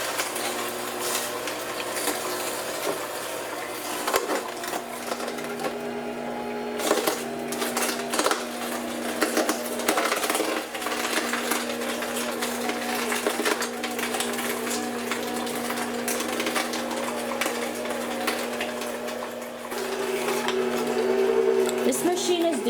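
Kitchen Academy masticating juicer crushing fruit, a steady loud mechanical whir and grind with crackling bursts throughout, running alone without talk.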